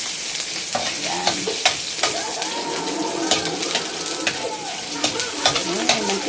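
Chicken gizzard fat sizzles and renders into cooking oil in a pan, a steady close crackling fry with frequent stirring scrapes and clinks throughout, no voices.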